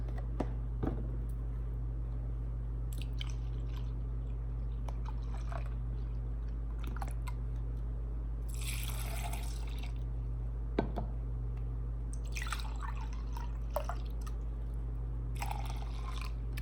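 Milk is poured into a blender for a fruit smoothie, with soft trickling and dripping bursts and a few small knocks over a steady low hum. Nobody speaks.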